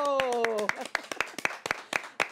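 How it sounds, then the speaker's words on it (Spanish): People in a TV studio clap for Televida's 28th anniversary celebration. A voice comes first, then a thin scatter of separate claps from a small group, spaced out and close by. "Eso merece un aplauso"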